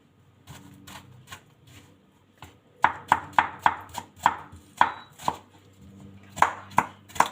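A knife chops through an apple on a cutting board, with sharp, evenly spaced thuds that come in a quick run, pause briefly and then continue. The chopping is close and clear, with no talking over it.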